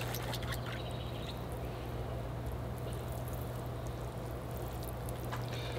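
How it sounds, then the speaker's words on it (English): Water poured steadily onto a larch bonsai during early summer maintenance, a continuous soft splashing and trickling that stays even throughout, close and fairly quiet with no talking. "All right, here I go with the water."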